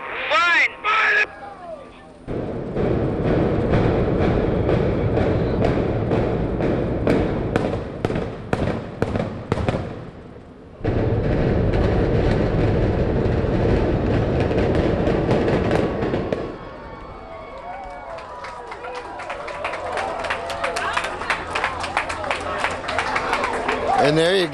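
The Ormond Beach hospital building comes down in a demolition implosion, a rapid string of sharp blasts cracking one after another, then a deep rumble of collapse before crowd cheers and voices rise at the end.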